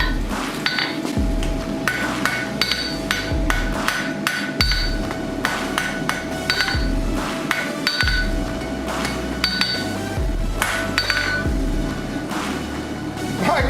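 Repeated ringing hammer blows strike hot metal on an anvil at a forge, shaping the tip of a rope dart in a steady, loud, close rhythm with occasional pauses.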